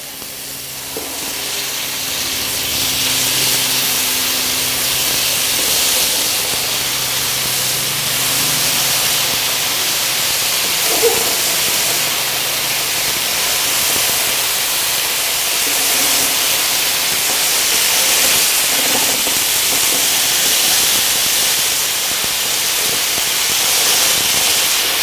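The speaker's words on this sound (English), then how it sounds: "you can hear the sizzle" BBQ chicken drumsticks sizzling on an oiled grill press, a continuous loud hiss and crackle with a few soft clanks early on, steady throughout, no talking.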